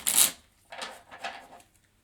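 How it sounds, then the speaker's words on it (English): A deck of cards gets shuffled in a short crisp riffle followed by several softer flicks and shuffles, quiet and close in an otherwise hushed room. "Sometimes shuffling works and sometimes it's a challenge"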